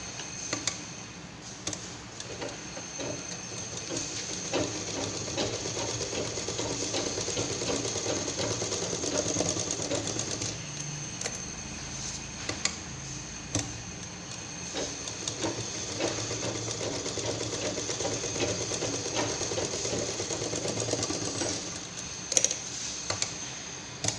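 A sewing machine stitches a simple homemade purse, a continuous rapid ticking hum with small bursts and variations, close up and steady throughout, with no talking.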